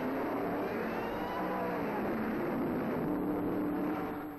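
A 1930s Auto Union racing car at a misty Eifel road race, its engine a continuous broad roar that holds steady and loud throughout under a hissy, old-film noise bed.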